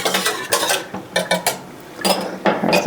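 Dishes and a metal whisk clatter and clink in a home kitchen, sharp bursts of handling close by, separated by short pauses, with no speech.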